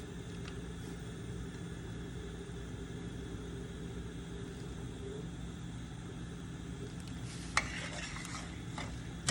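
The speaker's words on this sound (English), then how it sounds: "give it a little stir" Jasmine white rice being stirred in a pot, a soft steady scraping and swishing that runs throughout at low level over a faint kitchen rumble, with a couple of brief sharper clinks near the end.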